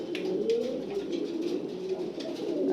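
A male pigeon coos near a nest beside its mate, a low, throaty, rolling call repeated in soft pulses that run steadily from start to end, close up, with faint chirps in the background and no talk.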